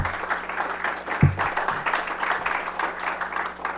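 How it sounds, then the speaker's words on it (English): Audience applause at a City Club of Eugene civil rights forum, with steady clapping across the room and a brief thump near the start. It fades a little toward the end. "can we do another round of applause for that?"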